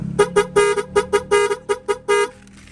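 A Sniper 155 motorcycle horn beeps in a rapid stuttering pattern, about ten short toots with a couple of longer ones, loud and close with no talking.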